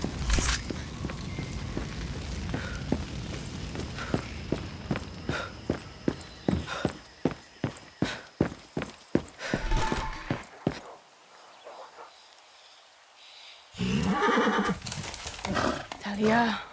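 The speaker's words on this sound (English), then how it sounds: "That's a horse and some paint." A horse in the Far Cry 6 video game, painted to look like a zebra, clip-clops in a quick, regular run of hoofbeats and then neighs loudly near the end, under game dialogue and other sounds.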